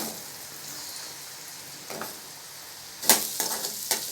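Small shallots sautéing in a pan for a spicy onion chutney, a steady soft sizzle with occasional sharper scrapes and stirring clatters toward the end, close and fairly quiet.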